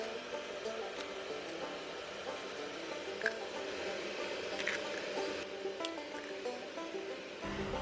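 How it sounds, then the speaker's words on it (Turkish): Eggs are cracked into a bowl of grated carrot and potato fritter mix, with soft, close squishing and dripping sounds and a few faint cracks. The sounds are low in level, and there is no talking. "Şimdi 3 tane de yumurta kıracağım içerisine."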